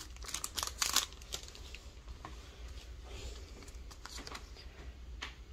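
A Pokémon Silver Tempest booster pack wrapper is torn open and crinkled, a quick burst of crisp foil rustling up close followed by softer handling and light rustles.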